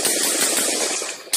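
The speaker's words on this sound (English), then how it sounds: "tell me you did not hear a gunshot at number 9." Gunshot in an audio recording, heard as a dense, loud, noisy burst of sound filling the short clip, with no talk.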